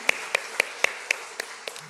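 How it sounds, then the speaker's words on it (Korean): A church congregation claps in a slow, steady rhythm of about seven separate claps, even and moderately loud with no talk. "이때 아멘 아멘 하면서 박수 한번 보내는 거예요."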